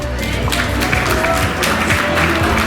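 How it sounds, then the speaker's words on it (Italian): An audience at the Miss Città Murata 2018 beauty pageant breaks into loud, sustained applause, a thick wash of clapping with some crowd noise and faint cheering mixed in. "Un grande applauso!"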